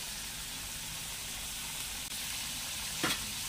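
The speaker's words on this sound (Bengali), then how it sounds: "এবার দেখুন আলু দিয়ে দিচ্ছি কড়াই, আলুটাকে ভেজে দিতে হবে।" Small-cut potatoes fry in a wok for a koi fish and drumstick curry, a steady, dense close sizzle throughout with one brief stirring scrape near the end.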